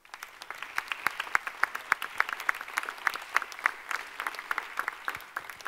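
An audience applauds the mayors at a New Year's greetings ceremony, a dense, sustained patter of many hands clapping at moderate distance, steady throughout the clip.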